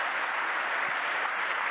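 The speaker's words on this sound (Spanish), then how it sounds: "Para los que están conectados hay aplausos" Steady applause from an audience at a talk on changes in Italy, a dense, even clapping texture held at a constant level for the whole stretch, with no speech over it.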